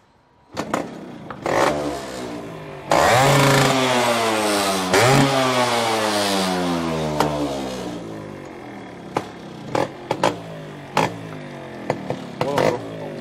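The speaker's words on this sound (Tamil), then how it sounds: "ஒரே கிக்கில் வண்டி ஸ்டார்ட் ஆகும் ப்ரோ." A Yamaha RX135 motorcycle engine is kicked over and catches in one kick, revving loudly and roughly before settling, with a few sharp clanks and taps after it idles down.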